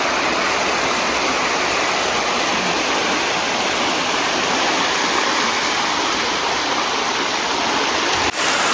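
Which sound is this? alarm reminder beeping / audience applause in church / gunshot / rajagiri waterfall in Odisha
rajagiri waterfall in Odisha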